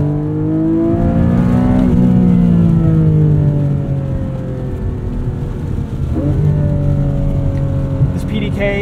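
Flat-six 4.0-litre engine of a 2024 Porsche 718 Cayman GTS with PDK gearbox pulls hard from inside the cabin, its pitch rising steadily through a gear, dipping on an upshift near two seconds, then climbing again, loud and continuous.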